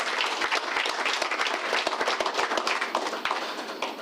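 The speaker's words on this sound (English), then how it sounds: "I think they deserve a round of applause." Round of applause from an audience at a stock exchange presentation, dense steady clapping from many hands, loud and close, holding evenly throughout without talk.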